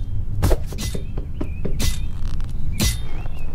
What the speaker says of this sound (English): Oh my god, not the squeaky noises again.